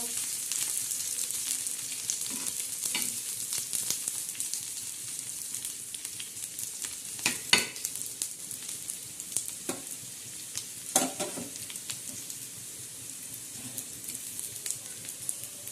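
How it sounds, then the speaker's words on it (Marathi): Onions and masala fry and sizzle steadily in a pan, with scattered louder stirring scrapes and crackles over the continuous hiss, close and fairly quiet throughout. "आता मसाला कसा भाजणार आहे ना ते मी तुम्हाला दाखवणार आहे"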